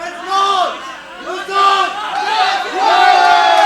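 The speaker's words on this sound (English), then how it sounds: "The crowd is cheering" Crowd at an amateur K1 kickboxing match roars and shouts loudly in waves, with raised voices rising and falling throughout alongside excited commentary.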